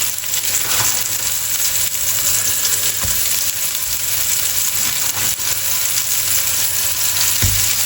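Burger patties sizzle loudly in a smoking-hot pan, a continuous bright crackle with a few scraping knocks of a utensil, close up and without any voices.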